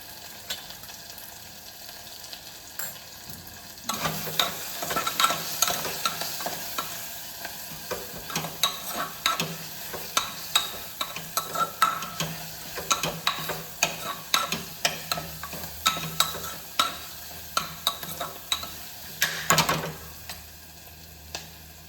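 Turmeric and red chili powder sizzle softly in a pan while a spoon stirs and scrapes, producing repeated quiet clinks and scrapes over a low frying hiss.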